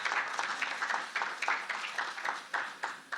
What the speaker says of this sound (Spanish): un fuerte aplauso para el señor parlamentario por organizar este evento